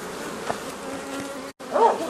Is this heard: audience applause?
no